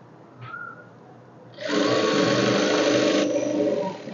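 Sewing machine stitching a double seam on a chudidar, running as a loud steady whir for the last few seconds after a quieter start.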